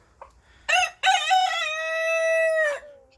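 Rooster crowing inside a chicken coop housing ornamental hens, one loud, close, drawn-out cock-a-doodle-doo that rises and then holds a long steady final note.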